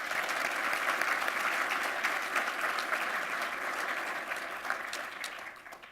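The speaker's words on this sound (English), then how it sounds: "Please join me in a round of applause to thank our sponsors." Sustained audience applause at a community trends breakfast event honoring its sponsors, a dense, steady clapping crowd heard from a moderate distance that begins fading toward the end.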